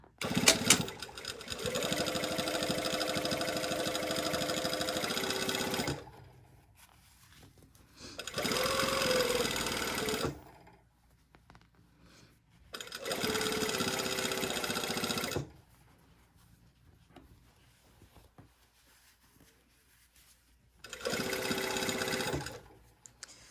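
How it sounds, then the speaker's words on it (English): A sewing machine stitches a pocket seam in loud, steady runs of several seconds each, separated by quiet pauses, with a faint hum between bursts. "So I'm just going to sew it as much as I can and we'll get to 5/8 of an inch."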